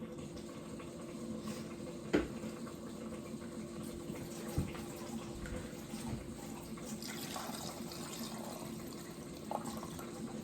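Water is poured into a pan of seasoned turkey wings, a soft continuous trickle and splash like a running tap, fairly quiet, with a couple of brief knocks and faint kitchen clatter.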